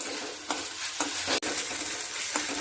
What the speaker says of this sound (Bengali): টমেটো বাটা দিয়ে এবার মশলাটা আমি কষিয়ে নেব।